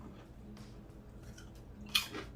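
Microwave-cooked pork rinds (chicharrones) being eaten, with soft chewing followed by a sharp crunching bite near the end, faint and close, with no talking.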